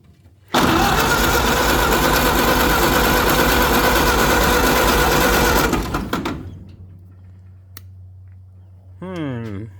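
A Ford Model A engine cranks hard and loud for several seconds, then cuts out and leaves a low electrical hum, with a brief voice or squeal near the end.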